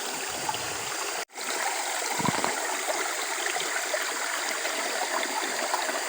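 Steady broadband rush of a river stream flowing outdoors, continuous and fairly close, with a brief dropout near the start and no talking over it.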